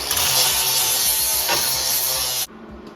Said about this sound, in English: Now I'm going to take the grinder and just knock some of the high spots off so it's not so ugly.